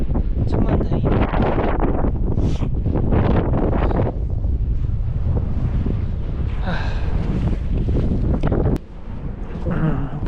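Strong gusty wind on the snowy Seonjaryeong ridge, roaring and buffeting the microphone loudly without pause, briefly easing near the end before surging again.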